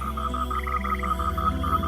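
Frogs croak steadily from a river in a Hindi Bible story cartoon, a dense pulsing chorus of repeated croaks with a deeper rhythmic throb beneath, continuous and close throughout with no talk.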